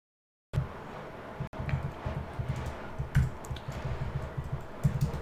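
A computer keyboard clatters steadily as CSS code is typed, with rapid, fairly loud keystrokes in an uneven run and a brief pause near the start, with no voice over them.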